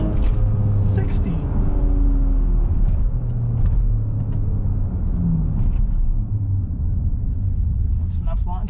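A 2018 Audi RS5 during a 0-60 launch run, a heavy engine rumble and road roar heard from inside the cabin, steady and loud, with brief bursts of talk over it.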